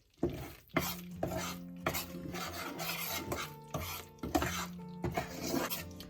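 Gram flour (besan) being stirred as it roasts in a pan over low heat for ladoos: repeated scraping and rasping strokes of a spoon against the pan, close and fairly loud, with clinks and a steady rhythm throughout.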